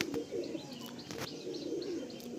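Two male Kalsira pigeons in a loft give soft, low cooing calls with brief chirps and faint wing flutters, close and quiet against steady background hiss.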